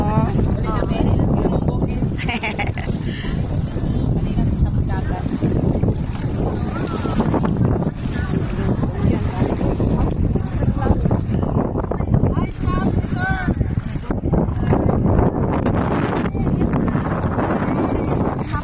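A boat motors across the sea off Santa Fe, Bantayan, amid strong wind buffeting the microphone and splashing waves, with people talking over the steady roar.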